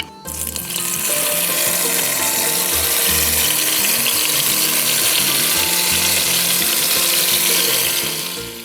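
Marinated hilsa fish pieces go into hot oil in a pan, setting off a loud, close, continuous sizzle that starts abruptly and holds steady throughout.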